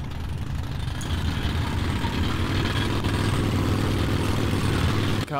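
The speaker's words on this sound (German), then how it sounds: "Wollte ich den Motor aufheulen lassen und dann sowas." A vehicle engine in Metro Last Light runs steadily and loud for several seconds, a low rumbling drone with no clear rise in pitch, then cuts off abruptly at the end.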